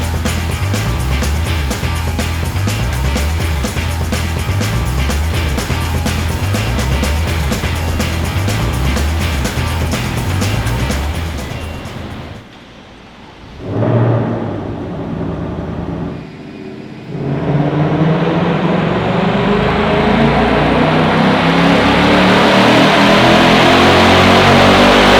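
Ford Mustang GT with a Steeda cold air kit and tune revving hard on a dyno pull, a loud sustained engine roar that climbs, cuts out briefly near the middle, then surges back and holds to the end, no talking.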